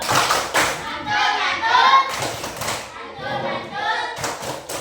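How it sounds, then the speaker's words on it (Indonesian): Sixth-grade pupils in a classroom give a short round of clapping for two classmates, a few bursts of claps and thumps mixed with children's chanting and a teacher's voice. "Tepuk tangan untuk kedua teman kita."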